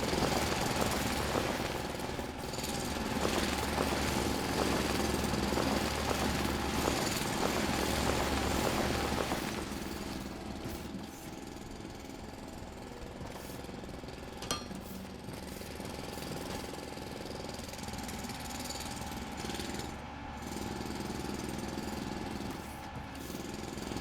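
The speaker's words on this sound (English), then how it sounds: "This thing sounds like a dodgy petrol mower. It reminds me of a jackhammer." A rough, chattering engine like a dodgy petrol mower or jackhammer, running loud and steady for the first ten seconds and then dropping to a lower, uneven drone, heard without talk.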